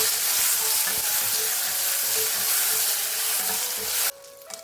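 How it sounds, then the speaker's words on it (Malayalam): Raisins frying in hot ghee in a pan give a steady, close, loud sizzle that runs for about four seconds, then cuts off sharply, leaving a quiet hum and a faint clink. "ഇന്ന് വറുത്ത് കോരി എടുത്ത് മാറ്റി വെക്കാം."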